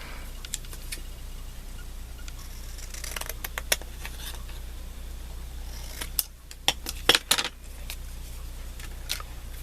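Scissors snip small pieces out of cardstock for a handmade card: scattered crisp cuts and clicks come in two short bursts over a steady low room hum, with no one talking.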